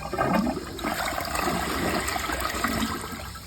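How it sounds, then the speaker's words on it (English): A Niagara Stealth toilet flushes with a full tank, a steady loud rush of water swirling through the bowl for several seconds without letup. "all right, the tank is full. Let's give it a flush"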